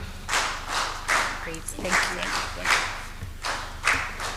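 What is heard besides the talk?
audience applause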